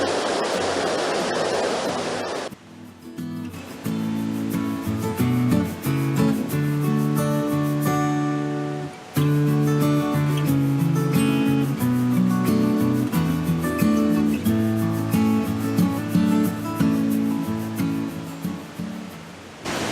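A woodland waterfall pours over rocks into a stream, giving a steady broadband rush that is loud and close at first, then carries on beneath sustained tonal sounds.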